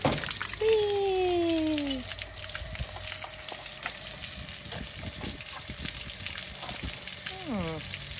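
Water gushing out of the drain of a 6-gallon water heater tank on a 2023 East to West Entrada 2200S travel trailer, a steady splashing flow with a few whistling tones and brief talk over it.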